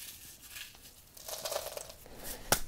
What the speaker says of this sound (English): I'm gonna crumple up these crackers and put them on the ground